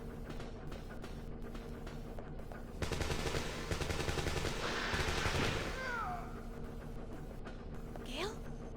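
Rapid gunfire bursts in Dino Crisis, a dense loud volley of shots in the middle of the clip over a steady game background hum, with quieter single reports and a few chirping effects before and after.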